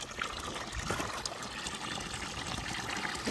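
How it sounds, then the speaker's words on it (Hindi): Hot water pours steadily from a container for a cow to drink on a farm in cold weather, a continuous close trickling splash with no voices. "अब पिला दूँगी गरम पानी। गाय मजे से पीती है गरम पानी।"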